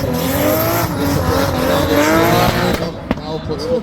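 A drift car at a racing event at Bishopscourt roars under full throttle with the handbrake pulled, engine note climbing steadily and tyres squealing, loud and close, with a commentator talking over it.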